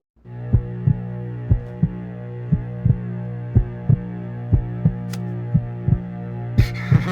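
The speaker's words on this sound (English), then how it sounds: "It is the beating of his hideous heart!" Slow, regular heartbeat thuds, about a dozen evenly spaced pulses over a low droning hum, loud and close.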